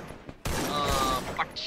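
Gunfire in the mobile shooter Free Fire: a loud, sustained burst of rapid shots starts abruptly and runs about a second, then trails into quieter game effects.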